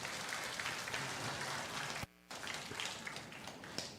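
A church congregation applauds during a Sunday service, a dense, fairly quiet patter of many hands that cuts out abruptly for a moment midway, then resumes at the same level.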